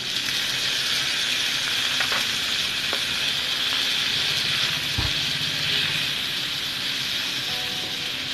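Red chili powder, turmeric and tomato sizzle in a hot pan for a spicy eggplant vegetable dish, with a steady, close, continuous frying hiss and a few faint clinks.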